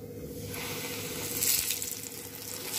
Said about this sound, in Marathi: तर पापलेट आता तेलामध्ये सोडूया।